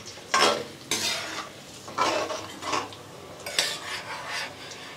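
Chana dal and urad dal fry in a pan while a large ladle stirs them, producing bursts of scraping and rattling over a soft sizzle, with no talking.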